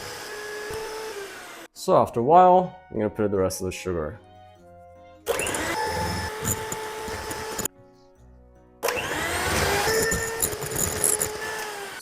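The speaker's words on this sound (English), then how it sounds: "I'm going to whip this using a beating machine." An electric beating machine whips chilled cream with sugar for a Japanese-style strawberry shortcake, running as a steady loud whir in two long stretches with a short pause between, after someone speaks over clinking.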